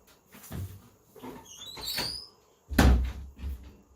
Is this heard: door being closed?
yes